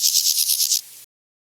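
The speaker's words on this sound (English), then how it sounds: "Grasshoppers are plant eaters." Grasshopper chirping in rapid pulsed bursts, about seven quick buzzy trills in under a second, then a brief steady tail before stopping abruptly; close and alone.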